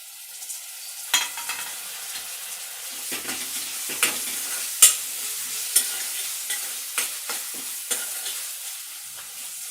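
Tomatoes fry in a pan for cabbage curry, a continuous close sizzle punctuated by a series of sharp spatula scrapes and taps at irregular intervals.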